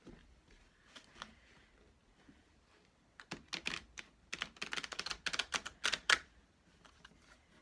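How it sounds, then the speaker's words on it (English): Quiet, close-up shuffling of a tarot deck, with soft scattered card riffles and flicks building into a denser burst of crisp snaps before trailing off. "I shuffle however I feel is right"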